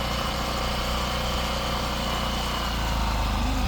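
A car engine running steadily at low RPM during a birthday burnout day, a continuous loud, rough idle-like drone with little change throughout, heard alone.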